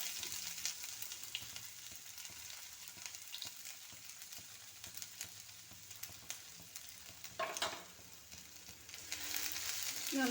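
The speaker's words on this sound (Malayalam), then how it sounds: "ഇളക്കി ഇഞ്ചി നല്ലതുപോലെ ഒന്ന് മൂത്ത് വരട്ടെ" Ginger fries in a pan while being stirred for a chicken dish, a soft steady sizzle under frequent light scraping taps, with a brief louder rush of hiss midway and no speech.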